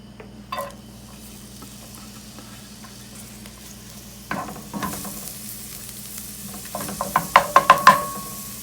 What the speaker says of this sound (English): while those are sauteing